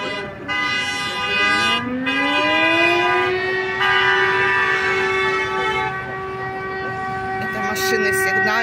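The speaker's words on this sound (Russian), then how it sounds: "Это машины сигналят, поддерживая родных." Many car horns blare together in a long, sustained, overlapping chorus, loud and close, with some tones shifting and layering. Cars honk in support during a street rally for prisoners of war in Mykolaiv, Ukraine.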